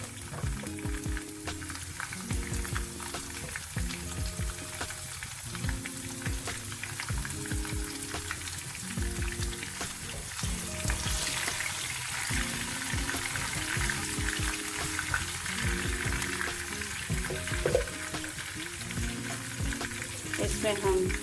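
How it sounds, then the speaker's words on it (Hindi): Garlic and green chillies fry in hot oil in a pan with a dense, continuous sizzle and crackle. Occasional stirring and clatter sound close by, steady and loud throughout. "लहसुन हमारा हल्का सुनहरा हो गया है, इसमें हम हरी मिर्च डाल देंगे।"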